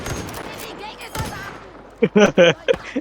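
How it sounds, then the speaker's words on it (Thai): Rapid gunfire rattles through a Battlefield V match near an artillery position, with sharp bursts of shots standing out at close range. "เฮ้ยมีคนยิงใส่เรา"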